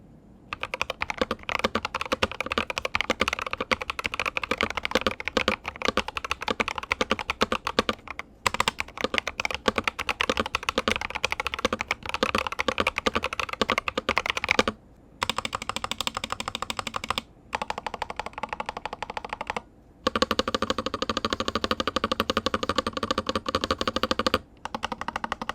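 Rapid continuous typing on a Womier M68 HE v2 magnetic Hall-effect keyboard, close and clear, dense clicky keystrokes with a few brief pauses between bursts.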